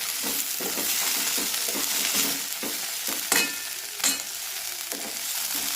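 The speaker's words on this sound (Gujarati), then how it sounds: "ધીમે ધીમે મિક્સ કરતા જશું" Ridge gourd peel chutney sizzles in a pan on low heat while a spoon stirs it, with steady frying hiss and a few sharper scrapes of utensil against the pan, no talking.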